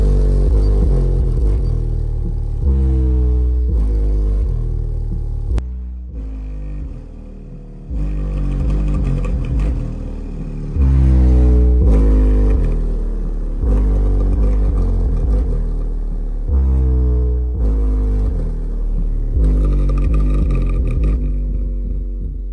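Massive Audio 6000 watt RMS subwoofer running free air, a loud, booming low-end drone that pulses in long swells with a few brief drops, no voices.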